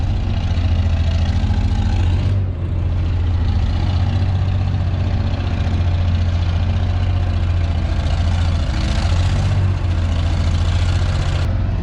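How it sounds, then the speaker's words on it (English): A low, rumbling old gas engine idles steadily and loudly up close, its uneven chugging suggesting a slight misfire, with no voices. "It almost sounds like it's misfiring, but it's an old gas engine."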